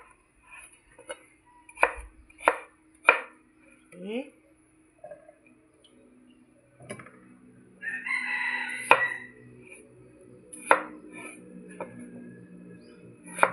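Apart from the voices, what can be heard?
chopping potatoes into cubes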